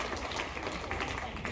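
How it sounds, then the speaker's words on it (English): Applause for Army veterans at a tribute ceremony aboard the Royal Caribbean cruise ship Anthem of the Seas: a faint, steady patter of many hands clapping from a distant audience. "Let's give them a big round of applause."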